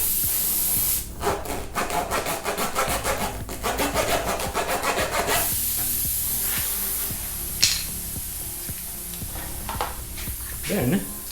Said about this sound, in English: take our auger, and clean the hole out